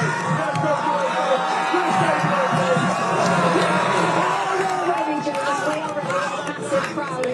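A huge crowd of fans packs Seattle Stadium before the US versus Belgium World Cup quarter-final, dense chatter and shouts forming a continuous roar under nearby voices.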